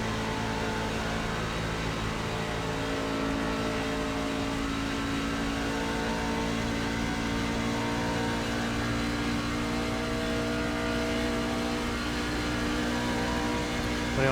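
A race truck engine in iRacing at Auto Club gives a continuous loud, steady drone with a sustained high hum and no pauses, held under throttle.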